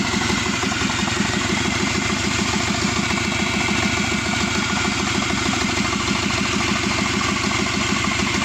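A Subaru Forester SG9 with a 2.5-liter EJ255 turbo engine and automatic gearbox idles after warming up, giving a steady, even, rhythmic low thrum close by with no talk.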